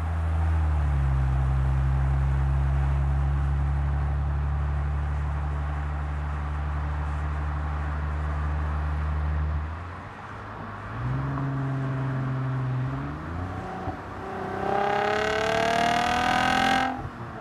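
A Lexus IS with an automatic transmission in sport mode, heard from inside: a steady engine drone holds, then the engine revs up through several rising pulls with quick gear shifts, climbing loudly toward the end.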